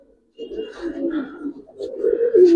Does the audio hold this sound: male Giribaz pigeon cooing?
yes